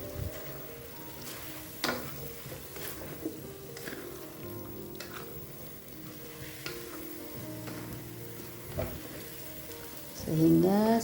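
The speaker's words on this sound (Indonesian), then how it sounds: "Aduk." Thinly sliced bilimbi starfruit with salt sizzles in a pan while being stirred, a quiet continuous crackle with occasional spoon scrapes and clinks, swelling louder near the end.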